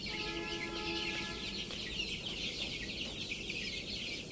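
Close, soft clucking from a young tiger-breed chicken recovering from paralysis, a few short tonal clucks early on over quiet background hiss, with no talking.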